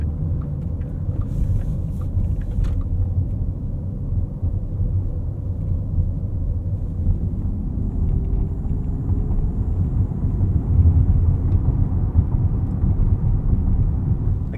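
Low, steady rumble inside a 2024 Porsche Cayenne Turbo E-Hybrid Coupe moving at low speed with its 8-speed automatic, a continuous droning cabin hum and road noise with no talk.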